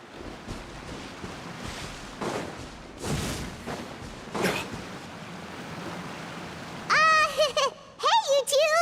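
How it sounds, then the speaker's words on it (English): Rain in Genshin Impact, a steady wash of falling water that swells and fades in waves, with game voices chiming in near the end. "Oh, it's raining."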